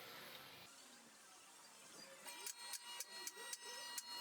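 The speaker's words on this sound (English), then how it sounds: "While the slow cut is happening right now" A brake lathe making a slow resurfacing cut on a Kia Sorento rotor, a faint steady whir with regular light ticking, quiet and distant.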